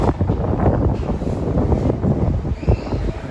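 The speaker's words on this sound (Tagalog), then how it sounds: "Saka malakas yung hangin." Gusty wind buffets the microphone in uneven, rumbling bursts, loud and close, with no other clear sounds.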